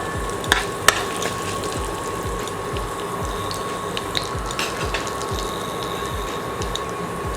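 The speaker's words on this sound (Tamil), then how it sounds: "2 காஞ்ச மிளகாய் கிள்ளி சேர்த்துருக்கேன், அதுவும் ஃப்ரை ஆகட்டும்." Dried red chillies fry in hot oil with cumin in a pan, a steady dense crackling sizzle, close and even throughout, with a couple of sharp pops near the start and no talking.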